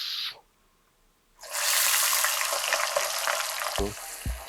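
Loud, steady sizzling of chicken frying in hot oil, a dense crackling hiss that starts after a brief quiet moment and continues with small pops.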